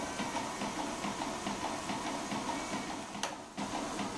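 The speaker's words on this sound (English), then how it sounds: "I have to shift the compressor engine gear into the compressor." A fischertechnik pneumatic compressor runs steadily as it builds up air pressure, giving a continuous mechanical whir with a fast rhythmic pulse, close and moderately loud, with a brief dip near the end.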